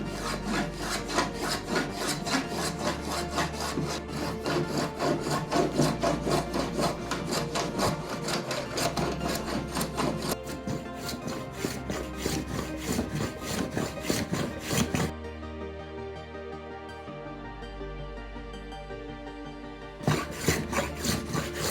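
A hand plane shaves a piece of oak into a round dowel in a jig, making steady rhythmic rasping strokes pass after pass, close and loud, with a brief pause before the strokes resume.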